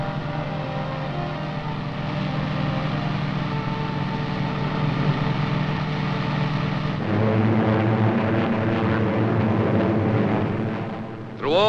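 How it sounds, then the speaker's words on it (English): Allied warplanes on a daily raid flying overhead during the preparations for the 1944 Normandy invasion, a loud, steady droning engine roar that holds throughout and shifts in tone partway through. "Allied planes, thousands of them, continued to soften enemy defenses and communications in daily raids."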